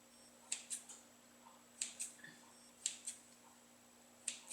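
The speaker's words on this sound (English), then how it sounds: "we're going to take the scissors and we're going to do some crosses" Several crisp metallic snips in small clusters as scissors cut crosses into brioche dough, close and quiet, with short pauses between each group of cuts.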